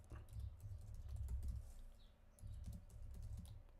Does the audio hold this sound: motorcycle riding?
no